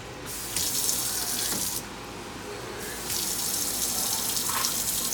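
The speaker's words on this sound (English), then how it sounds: "So what I'm going to do now, I'm going to add water." Cold tap water gushes steadily into a pot for carreteiro rice, close by, stopping briefly in the middle before the flow resumes.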